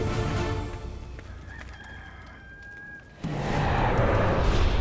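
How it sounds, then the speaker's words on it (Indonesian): A rooster crows once in a long drawn-out call over steady background noise, then a louder rushing ambience takes over. "Sebelum ayam jantan berkokok besok pagi"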